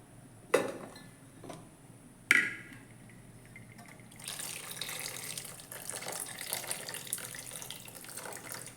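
Jar-rinsing water poured into a fish curry made with mackerel and ground coconut: two sharp clinks, then a steady splashing pour that runs to the end at moderate volume, with no speech.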